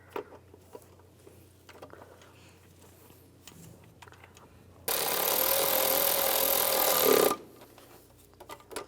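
Intake manifold bolts on a 2004–2010 BMW X3 are snugged down, first with faint clicks and handling noise, then one loud, sustained whirring burst of a power tool lasting about two seconds.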